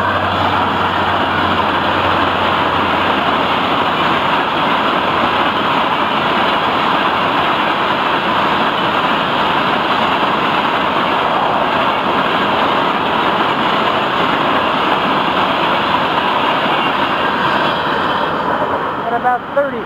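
FEC freight train 920, led by locomotive 412 and hauling about 33 empty hoppers, rumbles past as a steady loud roar of wheels and engine, continuous throughout before easing slightly at the end.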